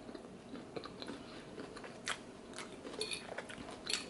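Close-up biting and chewing of stir-fried vegetables with broccoli, soft crunchy bites and moist chewing in quick succession, fairly quiet with no talking.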